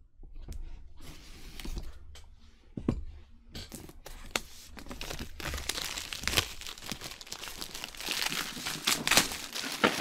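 Shrink wrap is cut and peeled off a Godsforge board game box: sharp plastic crinkling, tearing and crackling up close, sparse at first and then growing into a busy, louder rustle with no talking.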